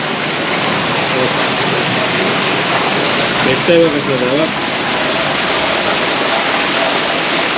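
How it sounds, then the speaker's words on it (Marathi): Heavy monsoon rain pours steadily over a farm at night, a loud, continuous roaring hiss close by, while a person speaks briefly over the downpour. "जोरात पाऊस पडतोय"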